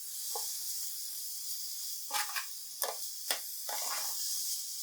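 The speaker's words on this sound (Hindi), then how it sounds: "चीनी डालकर अच्छे से मिक्स करेंगे।" Sugar stirred into grated carrots cooking for gajar halwa, a steady hiss of sizzling with several short scraping and stirring bursts, close and moderately loud, no talk.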